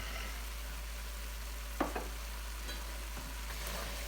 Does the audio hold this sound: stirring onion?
yes